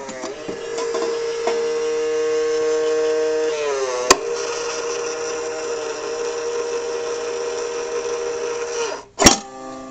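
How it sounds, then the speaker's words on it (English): A homemade useless machine box powered by six AA batteries runs its small gearbox motor with a steady whirring hum that shifts pitch as the arm moves, broken by a sharp switch click midway and another clack near the end. "It's the most useless machine ever."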